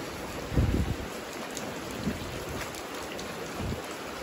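Steady rain falls in a village in Toba Regency, a dense wash of drops with a few faint low rumbles that could be distant thunder, no voices.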